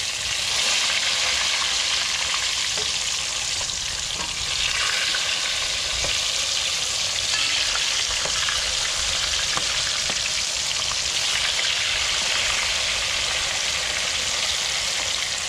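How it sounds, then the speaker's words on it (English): Red snapper fillets fry steadily in a hot pan for Guyanese-style curry, a dense continuous sizzle with occasional crackles and faint scraping pops, close and loud with no talking over it. "you start frying the fish"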